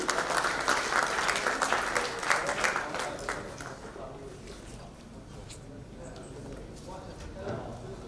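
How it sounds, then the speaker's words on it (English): Conference audience at a valedictory session in Dhaka breaking into applause, loud and dense at first, then thinning and fading to scattered claps beneath a murmur of talk. "A roaring applause, everybody."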